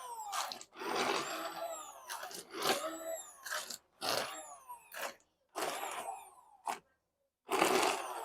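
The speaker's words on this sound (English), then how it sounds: "I'm going to use my immersion blender right in the pan here." An immersion blender whirs in bursts through roasted vegetables with fresh basil right in a shallow pan, the motor surging and stopping repeatedly with short pauses between pulses, close and fairly loud.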